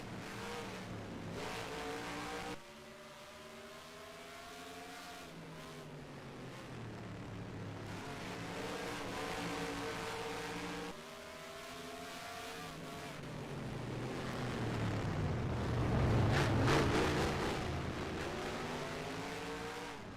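Racing trucks in the NR2003 sim at Infineon Raceway's road course roar past with engine notes rising and falling through gear changes, several trucks overlapping, loud and continuous with a swelling peak near the end.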